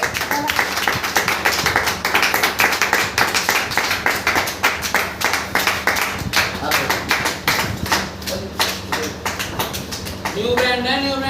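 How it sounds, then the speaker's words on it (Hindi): Steady, loud clapping from a crowd at a small cheque celebration in Delhi, sustained and dense throughout with a few sharper claps standing out, fading into a brief tail near the end. "एक बार जबरदस्त तालियां"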